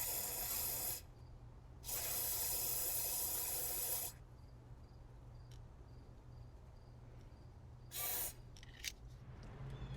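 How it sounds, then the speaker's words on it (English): Fogging oil sprayed through a hose into the spark plug hole of a seized Camaro engine comes as hissing bursts, two long and one short, against a faint low hum, with a few light clicks near the end. "So I'll put this hose into where the spark plug hole is and then squirt that fogging oil down in there."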